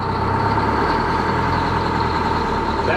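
Boat engine idling during a first sea trial with the seacocks open, a steady, loud, even rumble with a constant low drone and no talk.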